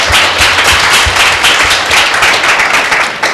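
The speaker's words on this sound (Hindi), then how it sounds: "हाथ उठाएंगे, सबको आएंगे कि एक जोरदार ताली दे दें।" Loud round of audience applause at a church Tuesday meeting, dense overlapping claps filling the room steadily throughout, close and energetic with no talk over it.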